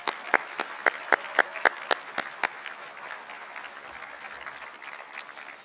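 Graduation ceremony audience at a high school applauding teachers: steady crowd clapping fills the room, with a few loud, sharp individual claps standing out early before the applause settles into a softer, even patter.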